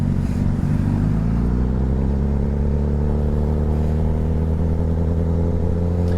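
A 600 cc motorcycle fitted with an aftermarket exhaust, close and loud, its engine droning and revving steadily with a rough, throaty rumble that holds for several seconds.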